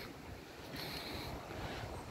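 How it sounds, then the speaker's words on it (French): Steady wind buffets a phone microphone outdoors, a continuous rough rumble and hiss with no voices. "j'espère qu'il n'y a pas trop de vent"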